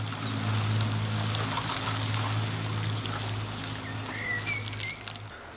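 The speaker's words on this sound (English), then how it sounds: "quite deep watering." Water pours steadily from a can or hose over newly planted giant leeks in an allotment polytunnel, a continuous close trickle and splash with faint birdsong in the background and no talking.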